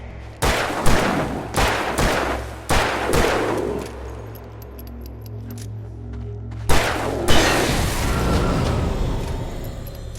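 Gunshots in the video game Alan Wake: four heavy, booming shots at roughly even intervals, then a quieter lull with a faint ringing, followed by one more loud blast and a long rumbling tail.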